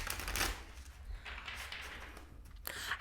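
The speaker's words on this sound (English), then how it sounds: "that was a really hard shuffle" An oracle card deck is shuffled by hand, producing soft, close riffling and flicking bursts with quiet rustling between them.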